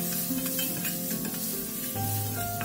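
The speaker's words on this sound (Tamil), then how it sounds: "இப்போ மஞ்சள் பொடி மிளகாய்த்தூள் சேர்த்துட்டு நல்லா கலந்து விட்டுக்கோங்க" Onion and tomato masala stirred in a hot pan after turmeric and chili powder go in, a continuous close sizzle with scraping stir sounds throughout and no voices.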